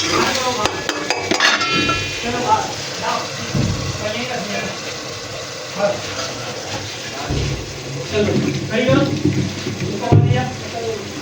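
Potatoes are tipped into fried masala in a cooking pot for a village-style potato rice dish, giving a run of metallic clatters and scraping spoon knocks against the pan, with a voice speaking over the clanking.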